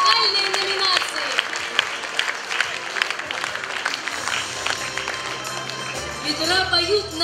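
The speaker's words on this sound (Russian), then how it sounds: "Еще раз бурными аплодисментами поздравим всех участников и победителей вокальной номинации." An audience applauding at the closing of a youth arts festival and contest, honoring the vocal category participants and winners. The clapping is mixed with crowd voices and some tonal background sound.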